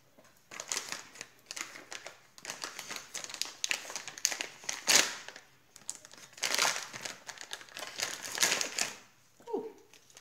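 Crisp snipping and crinkling as sharp scissors cut through paper or card in repeated bursts, close by, with brief pauses between cuts.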